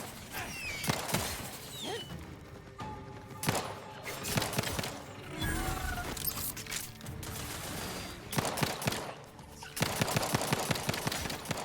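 Combat gunfire in The Outer Worlds 2: rapid bursts and single shots crack out repeatedly over about twelve seconds, with heavier clusters near the start and end, mixed with game effects and music.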